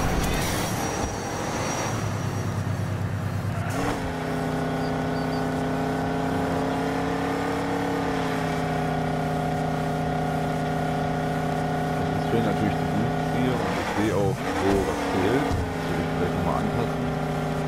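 Toy race car engine whine in Hot Wheels Unleashed 2, a steady revving tone that holds loud and continuous throughout, with someone talking over it in places.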